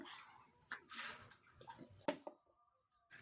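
Puja items being washed with water downstairs at home, faint splashing and trickling with a few clinks of metal items, intermittent and quiet, fading toward the end.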